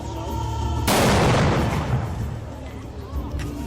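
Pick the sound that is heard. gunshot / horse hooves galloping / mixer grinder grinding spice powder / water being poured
gunshot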